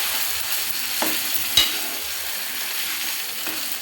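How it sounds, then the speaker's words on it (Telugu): Food sizzles in hot oil with a steady, fine crackle, broken by a couple of soft stirring clinks, heard close up with no voices. "నూనెలో మగ్గాలి."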